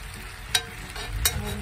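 Potatoes and onions frying in a pan on the stove give a steady, close sizzle, broken by a few short scraping stirs.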